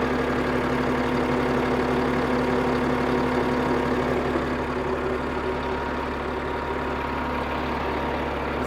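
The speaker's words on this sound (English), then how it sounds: "Big old mechanical Caterpillar engine." A big mechanical Caterpillar diesel with a wet kit idles steadily in a clean cabover day cab truck, a loud, even low rumble with a constant drone throughout and no talking.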